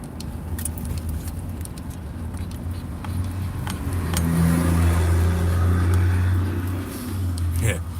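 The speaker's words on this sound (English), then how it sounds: "Military vehicles." Military vehicles driving past outdoors, a steady low engine rumble that swells as they pass close, with a person talking over it.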